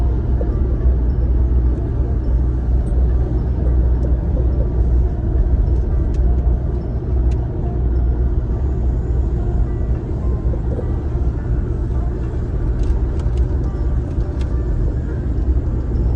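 A car climbing a mountain highway, Route 213 over the Phu Phan range in Thailand, with a steady loud engine and road rumble running throughout and no gaps.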